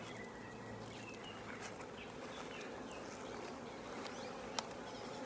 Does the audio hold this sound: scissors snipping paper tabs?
no